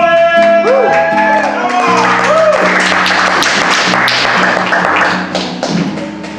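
Applause and cheering rise from a comedy club audience welcoming comedian David Collins to the stage, a steady dense wash of clapping mixed with background music and crowd noise, tapering slightly near the end.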